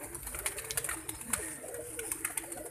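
Pigeons kept by a fancier coo and flutter nearby in a loft, a soft low cooing with scattered sharp clicks and shuffles throughout.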